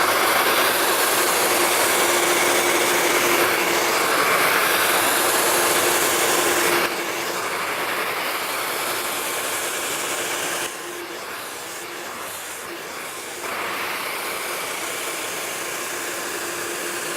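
A steady broadband whoosh of a hair dryer blowing close by during a brush blow-dry of hair, continuous throughout with a few shifts in tone and level.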